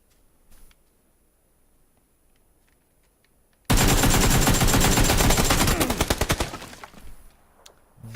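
AK rifle firing in the video game PUBG: after a quiet stretch with faint clicks, a loud sustained burst of rapid automatic gunfire erupts and gradually tapers over about three seconds.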